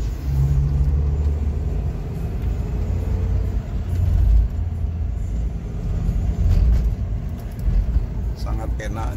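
A car engine pulls hard in second gear, heard from inside the cabin as a steady, dense low rumble with road noise throughout.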